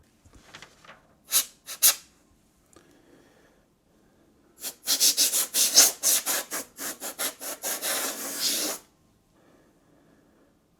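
Sandpaper of 1500 grit rubbing over a part of an Otari MX55T-M tape machine being refurbished: two short scrubs, then a quick run of about a dozen brisk, close strokes, with quiet pauses around them.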